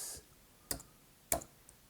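A few crisp isolated clicks of keys on a computer keyboard, two sharp taps and a fainter one, close and quiet against near silence.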